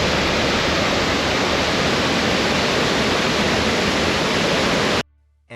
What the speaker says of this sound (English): You can hear the waterfall from where I am right now.